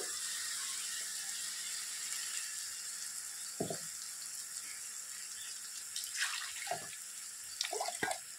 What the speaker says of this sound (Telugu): ఆ వాటర్ వేస్తున్నాను.